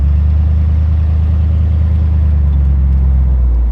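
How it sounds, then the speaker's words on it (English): A 1965 Ford Thunderbird accelerating, with a deep, steady low engine and exhaust rumble heard loud and close from inside the car, menacing rather than screaming, with no talk over it. "The exhaust sound is really mean and really menacing."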